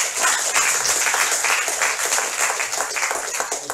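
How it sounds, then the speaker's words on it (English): Audience clapping at an MSc graduation ceremony for flood risk management and groundwater programmes, a steady dense patter of many hands lasting several seconds at even loudness. "I think we have also to clap again our hands to thank you for your contribution."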